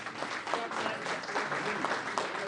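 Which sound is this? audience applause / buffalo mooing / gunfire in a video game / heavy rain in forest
audience applause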